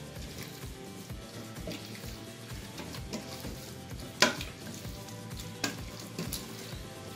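Ground meat simmers in tomato sauce as it is stirred, a soft wet bubbling sizzle with scraping spoon strokes and a couple of sharper knocks against the pan, under a background music track.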